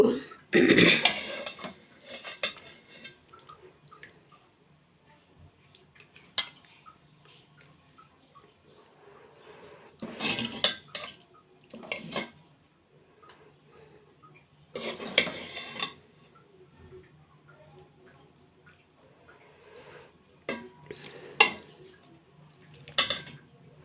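Dishes and cutlery clink in bursts while cooked taro greens with hilsa fish-head pieces are served, with several sharp clattering moments separated by quieter pauses and no talking.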